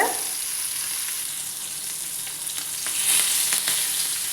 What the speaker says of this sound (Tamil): மீன் வந்து நல்லா குக் ஆகட்டும் சரியா எண்ணெயில் பொரியட்டும்